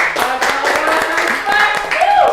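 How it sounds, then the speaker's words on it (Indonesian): Classroom applause during a microteaching session, with brisk, close clapping from a small group of hands running under speech for a couple of seconds. "Masya Allah, tepuk tangan"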